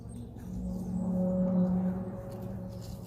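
Low, droning rumble of demolition work at Ironbridge power station in the distance, swelling slightly and then easing, steady industrial noise with no talking.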